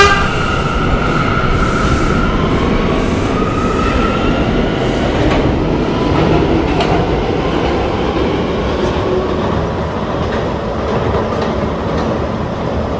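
A K line subway train in a video game rumbles along the tracks at speed, steady loud roar with metallic squeals and rhythmic clacks of the wheels.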